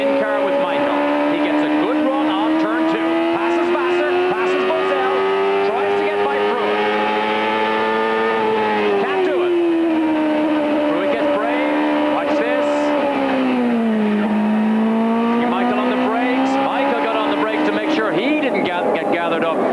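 IndyCar race cars at the 1995 New England 200 keep up a loud, sustained high engine whine whose pitch rises and dips as they run through the corners, with a commentator talking over it.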